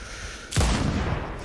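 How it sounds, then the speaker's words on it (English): A sudden deep explosion bursts in the PC shooter Sniper Ghost Warrior Contracts 2, a loud boom with a rolling low tail over steady game ambience, heard once. "Boom, explosion."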